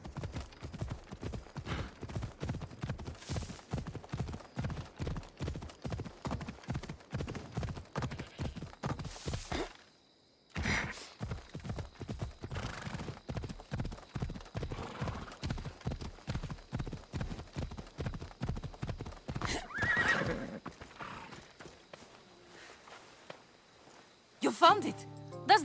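A horse in Assassin's Creed Odyssey gallops with rapid, rhythmic hoofbeats that stop briefly midway and then resume, clear and close, with a brief noisy burst near the end.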